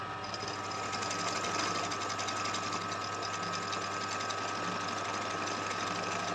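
An embroidery machine motor running at its slow speed setting, a steady close whirring hum with a fast mechanical needle rhythm that holds unbroken throughout, with no talking.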